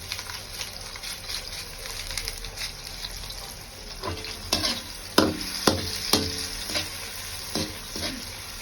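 Mussels (tahong) sautéing with tomato in a pan: a steady frying sizzle with stirring, joined by several sharp scrapes and clatters of a utensil against the pan in the second half, fairly close.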